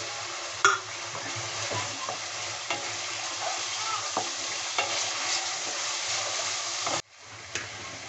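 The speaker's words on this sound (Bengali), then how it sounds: "এই পর্যায়ে এসে আমি দিয়ে দিচ্ছি কেটে রাখা কাঁচা লঙ্কা বা হারি মরিচ" Chopped green chilies hit hot oil in a pan for a pumpkin dish, giving a steady close sizzle and frying hiss with a few stirring clicks, ending in a sudden drop at the close.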